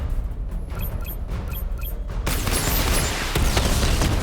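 A missile barrage fired in Batman Arkham Knight, heard as a loud rumbling burst of launches and blasts that swells into a dense, sustained roar with crackling impacts.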